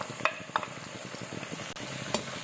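Kashmiri red chili powder stirred into frying onions in a pan for a baby jackfruit curry, giving a steady low sizzle with a few sharp scrapes of a utensil, close and alone with no talk.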